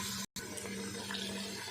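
Water pours steadily into a pressure cooker of chicken pulao, a continuous close rushing stream with a brief cut partway through.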